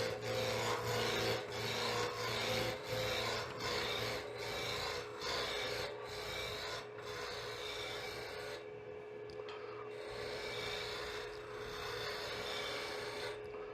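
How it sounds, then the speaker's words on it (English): A spindle roughing gouge shaves a wood blank spinning on a lathe, giving a continuous close scraping rasp with faint rhythmic pulses as the tool passes over the turning wood. "So I'm just using a spindle roughing gauge initially, just to take that down to a cylinder."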